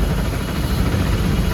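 A Honda CBR 250R engine idles after camshaft and rocker arm replacement, a steady close low rumble with no ticking, heard alone for a brief moment.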